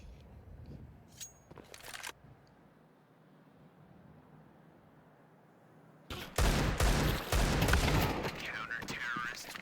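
Bursts of rifle gunfire in a professional Counter-Strike match between FaZe and sAw, with a few sharp shots early, a quiet stretch, then a dense flurry of rapid fire under a commentator's voice.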